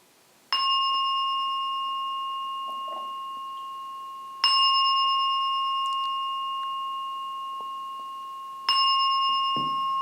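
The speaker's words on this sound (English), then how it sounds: "I'll ring the bell 3 times." A meditation bell struck three times at even intervals, each clear ringing tone sustaining and slowly decaying before the next strike, in a quiet room.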